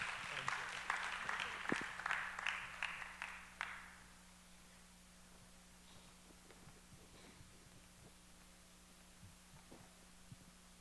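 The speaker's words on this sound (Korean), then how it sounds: "한 번 더 박수해 주세요." Congregation clapping in a church service, several seconds of dense applause that tapers off, leaving a low steady hum of the room.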